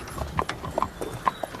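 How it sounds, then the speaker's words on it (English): A horse's hooves clip-clop in a brisk, uneven series of sharp knocks, fairly close and clear, with faint background murmur but no distinct talk. "No, I'm talking about Prince, my horse."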